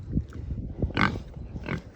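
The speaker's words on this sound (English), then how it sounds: "Hello pig." Pigs on a farm grunting and oinking in a few short, rough bursts close by, with soft background noise between them.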